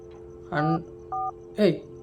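Within the Static video game: a phone dials the police, giving three short electronic keypad tones spaced apart over a low steady hum.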